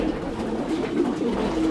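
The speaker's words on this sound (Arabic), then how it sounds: "دابا راه كاين حمام هنا دو برودكسيون" Pigeons coo inside a pigeon loft, a low, soft, continuous murmur of overlapping calls from several birds nearby, with no talking.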